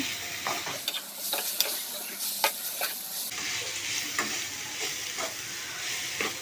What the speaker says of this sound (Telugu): ఇది ఇలా వేసేసి బాగా కలపెట్టుకున్నామండి